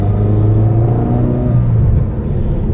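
A Mini's car engine idling steadily just after a high-pressure fuel pump replacement, a close, continuous low rumble with a slightly throaty tone and a small dip in pitch near the end, no voices.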